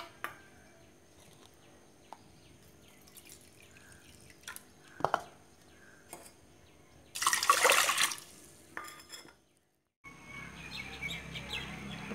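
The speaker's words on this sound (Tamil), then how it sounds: "இந்த கப்பால் 4 கப் தண்ணி சேர்த்துங்க." Water poured from a cup into a pressure cooker holding millet and ginger for millet pongal, a loud rushing pour lasting about a second amid quiet kitchen sounds, with faint bird chirps and drips in the background.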